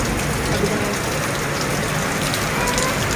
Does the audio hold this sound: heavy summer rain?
yes